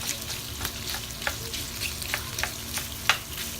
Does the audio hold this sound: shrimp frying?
yes